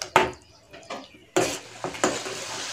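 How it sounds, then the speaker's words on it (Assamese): Blended tomato paste stirred in a frying pan while cooking a fish egg curry, giving a few separate scraping, clinking strokes of a spoon against the pan, close and moderately loud, with quiet gaps between them. "বিলাহীখিনি দিয়াৰ পাছত মই অকণমান দুবাৰমান লৰাই দিছোঁ"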